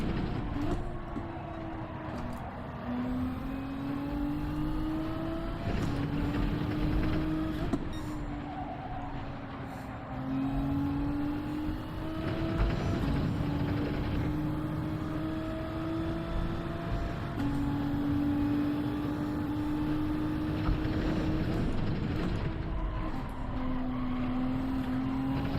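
A Toyota Supra engine drones steadily in a racing video game, its pitch climbing and then dropping back through repeated gear shifts over a constant mid-loud roar, with no voices.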